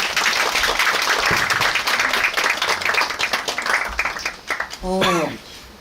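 An audience at a Korean humanities concert claps to welcome a film director and two actors onto the stage, a steady burst of applause that thins toward the end as a voice briefly cuts in.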